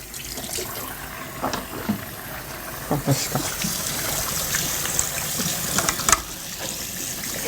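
Water runs from a touchless sensor tap into a sink in a school washroom, a steady trickling hiss lasting throughout with soft splashes and clatter, while people talk nearby.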